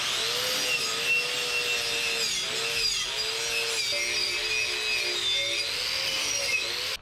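Metal parts for a battery tray build being polished with a power tool, giving a continuous loud whirring, rubbing grind with a wavering pitch that holds steady for several seconds, close up and without talk.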